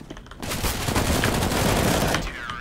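A dense rattle of gunfire in the video game CS:GO starts abruptly and continues for about two seconds, loud and close, with overlapping shots blending into a sustained burst.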